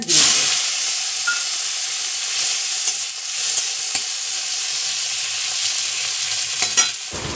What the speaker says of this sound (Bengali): আমার তেল গরম হয়ে গেছে, দিয়ে দিলাম একটু সামান্য গোটা জিরে